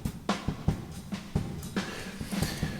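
Percussive hits pass through an Airwindows PocketVerbs reverb on its room setting, giving a string of irregular sharp transients with short, roomy tails at moderate level and no voice.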